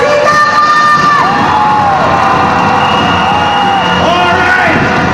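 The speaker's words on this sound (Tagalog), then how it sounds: "Sigawan pa ng mga sigawan!" Packed crowd yelling and cheering at full volume: dense overlapping shouts and whoops that swell and dip in waves, loud and close, without a break.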